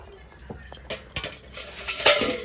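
Wild elephant foot yam pieces drop into a pan of hot water, making a few scattered clinks and knocks against metal that grow busier and louder toward the end, close by with no talk.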